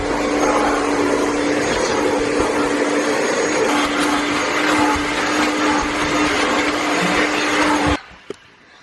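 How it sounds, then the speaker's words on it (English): A home vacuum cleaner runs loud and steady while cleaning a dirty car interior, a constant whining roar with a fixed hum that cuts off abruptly near the end, leaving a brief knock. "So we're just gonna do a quick vacuum"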